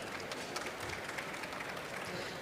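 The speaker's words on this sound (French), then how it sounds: "que je vous demande d'accueillir sous vos applaudissements" Audience applause at a conference on cinema and tourism development, a steady dense wash of many hands clapping throughout, fairly distant and even in level.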